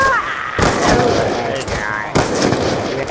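Loud, sharp gunshots in a free-for-all video game match: a couple of hard cracks, each with a ringing tail, over dense game noise.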